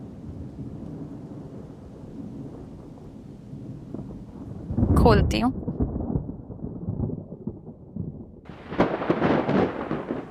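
Thunderstorm with thunder and rain: a low rumbling roll builds to a loud crack near the middle, with a burst of rain-like hiss later and someone speaking briefly over the storm.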